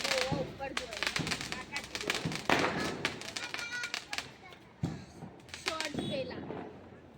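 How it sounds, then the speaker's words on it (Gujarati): Firecrackers burst in sharp, irregular bangs during Kali Chaudas (Diwali) celebrations, some close and loud, while people talk throughout. "જો ફટાકડા ફૂટી"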